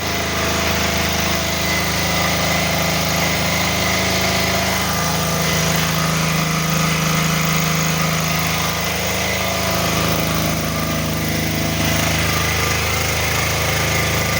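A new VitalsWP 6.5-3de diesel generator, rated 6.5–7 kW, runs under load with a steady, loud mechanical drone and a faint rattle throughout, close by, with no talk.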